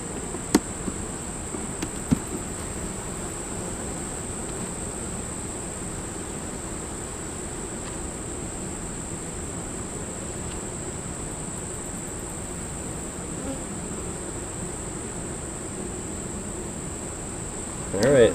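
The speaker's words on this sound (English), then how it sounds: "with that many bees just hanging out on the porch in the middle of the day" A steady, faint hum of honeybees around a hive, a constant droning buzz with a few soft clicks and knocks nearby.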